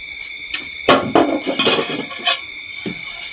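A knife cuts into a whole bottle gourd on a hard surface, giving a few sharp, close knocks and crunching chops in an irregular rhythm over a steady high insect-like buzz.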